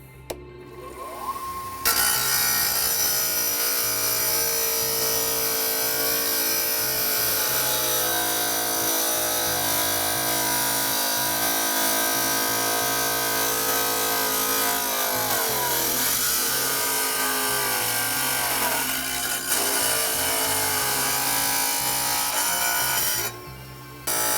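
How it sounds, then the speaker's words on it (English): A table saw tilted to 45 degrees cuts a miter through fireplace stone, producing a loud, sustained, grinding whine that runs almost unbroken from start to finish at close range. "Okay, so now we cut the miter. Lift the table up to 45 and just set it right there."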